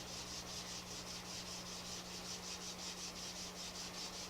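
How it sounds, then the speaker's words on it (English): Finger rubbing doped polyfilm covering on a model aircraft until it turns tacky, a quiet, rapid back-and-forth rhythmic rubbing close up over a low steady hum. "So we just dope it again. Rub it with our finger until it's tacky."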